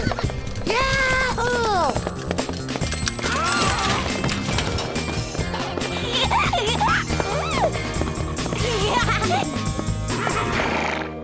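A cartoon horse gallops with busy clip-clopping hooves and repeated high whinnies over lively music and crashing effects, while a voice whoops an exclamation.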